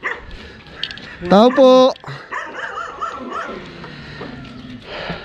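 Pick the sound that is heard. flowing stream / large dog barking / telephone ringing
large dog barking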